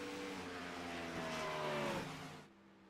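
Race car engine in a sim racing game at Darlington holds a steady harmonic drone, rising in pitch slightly and then dropping away sharply near the end.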